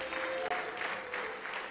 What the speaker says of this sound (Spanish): Dale un fuerte aplauso de alabanza a nuestro Dios y a nuestro Rey.